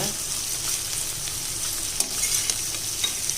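Vegetables sautéing lightly in a pan for a wheat rava upma, a steady close sizzle with a few soft stirring clicks near the end, no voices.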